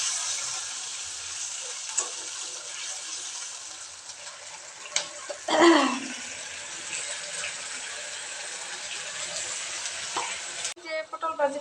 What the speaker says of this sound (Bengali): যে পটল ভাজি করতেছি